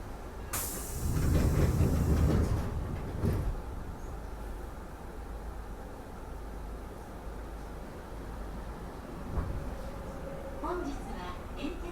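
An Enshu Railway (Entetsu) electric train runs with a steady rumble and hiss. It is loudest near the start, then holds as a continuous hum, with a soft knock near the end and a passenger announcement over it.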